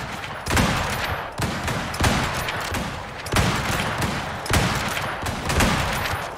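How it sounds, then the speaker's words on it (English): Rifles fire at a mammoth in the survival game Icarus, bursts of several shots repeating roughly every second in a loud, close, continuous fusillade with no talk. "Everybody's rifles just come out."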